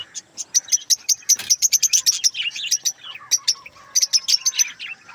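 Lively bird chirping, many quick high tweets in bursts with short pauses, close and fairly loud, a few scratchy calls mixed in.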